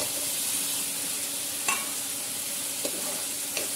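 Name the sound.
potatoes frying and being stirred in oil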